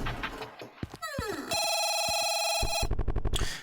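A cartoonish banana phone rings in a video game, a loud sustained electronic bell tone with a sliding chirp before it and a rapid trill at the end, heard alone.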